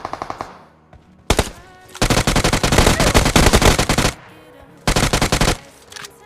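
Rapid automatic gunfire rattles in the BGMI mobile battle royale game, with loud close bursts of machine-gun fire separated by brief pauses and single shots, firing in long sustained volleys with no speech.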